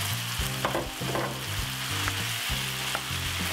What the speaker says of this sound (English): Break up the corned beef inside of it